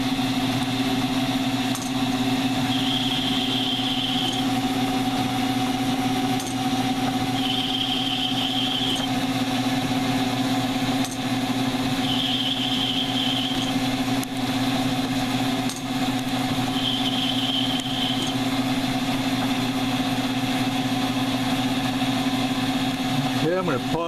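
CNC lathe under Mach4 control cutting 5/8-18 threads, a steady machine hum with repeated high-pitched cutting passes recurring about every five seconds, loud and continuous.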